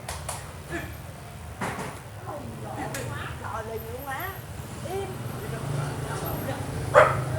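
A dog barks and yips a few times at moderate distance while people talk over it in the background.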